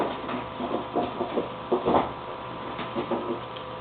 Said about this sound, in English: We just push that and take our bolt out.